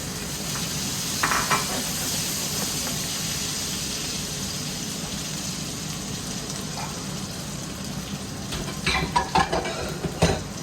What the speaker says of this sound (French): on va pouvoir faire sauter les gnocchis pour les faire colorer un petit peu